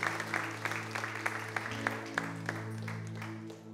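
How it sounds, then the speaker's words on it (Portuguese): Congregation applauding during a Portuguese-language worship seminar in a church, a steady patter of clapping at low level over a sustained tonal hum from instruments or sound system. "Vamos aplaudir bem forte o Senhor."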